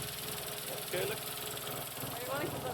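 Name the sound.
Peugeot 106 XSI engine idling on three cylinders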